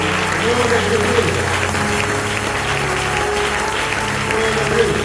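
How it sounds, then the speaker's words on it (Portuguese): A church congregation applauds steadily, a dense, even wash of clapping and crowd noise with a low background hum that holds at the same level throughout. "Uma salva de palmas para o Deus"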